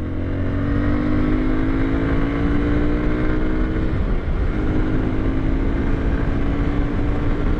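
A Yamaha Crosser motorcycle with over 10,000 km rides through heavy traffic. Its engine drones loud and steady throughout, with the pitch dipping and then climbing again midway.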